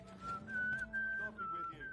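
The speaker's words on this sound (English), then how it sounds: "Stop that whistling" A character whistles a wavering tune in the video game Kingdom Come Deliverance 2, a clear sustained melody of a few gliding notes over quiet ambient background.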